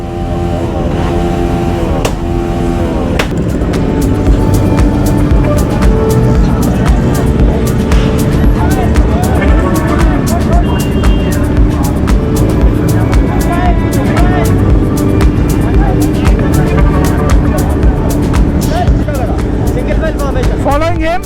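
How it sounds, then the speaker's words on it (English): A group of motorcycles riding together in lines on an organised ride, their engines a loud continuous roar and drone close by throughout, with voices talking over the engine noise. "Just listen to these bikes."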